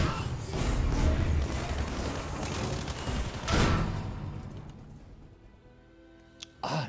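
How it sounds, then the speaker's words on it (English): A grenade blast in Battlefield V comes amid dense, loud rumbling explosions and gunfire that fade into quieter decay, followed by a few late sharp reports. "Watch out, grenade"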